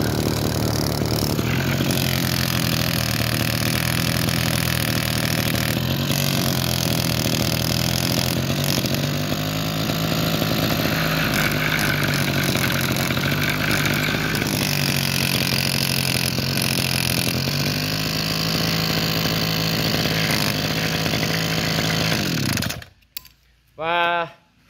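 An old motorcycle engine, its fuel tank removed for cleaning, runs steadily and loud up close, a throaty drone with rising throttle blips. It cuts off near the end, leaving a couple of short knocks.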